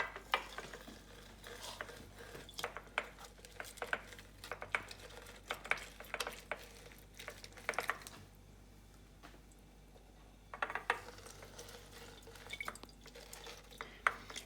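Two lemons sliced and squeezed by hand for shrimp ceviche, faint close wet clicks, squishes and drips in irregular bursts with short quiet gaps, no talk.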